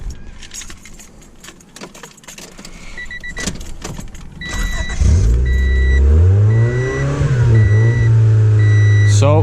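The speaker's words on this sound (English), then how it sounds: "the car actually starts now" Keys jangle and a car's dash chimes beep repeatedly before the engine cranks and catches after a battery replacement. The engine then settles into a loud, steady idle, with regular chimes continuing over it.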